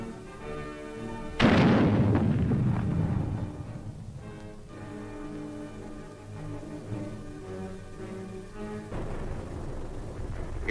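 A recoilless rifle fires during military training, one sharp, heavy blast followed by a long rolling echo, with a fainter report later, all under an old, thin film soundtrack.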